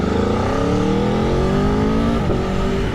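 A 2021 Aprilia Tuono V4 1100 motorcycle's exhaust roars loudly and continuously as the engine revs rise and fall, close and alone with no voices.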